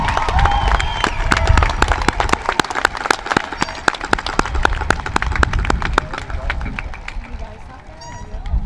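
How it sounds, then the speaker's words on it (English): An audience claps for eighth graders at a school stepping-up ceremony, sustained loud applause with sharp individual claps and scattered crowd noise, fading slightly toward the end. "How about a big round of applause for all of our eighth graders?"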